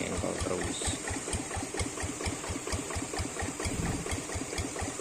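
A diesel engine idles with a steady, rapid knocking pulse, close and constant throughout, at a site short of water.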